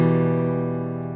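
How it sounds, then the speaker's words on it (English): One guitar strum rings open after palm muting is released, a sustained chord decaying over about a second, clear and close with no talking. "we are going to be releasing the palm muting so that the guitar rings out"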